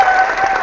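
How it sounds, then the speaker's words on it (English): Hands clap in steady applause-like patter, close and continuous, through a short burst with no talking. "Let me clap for you."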